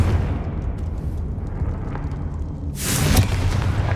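A Confringo fire spell from Hogwarts Legacy bursts into a sudden loud blast late in the moment, following a steady low rumble of game ambience.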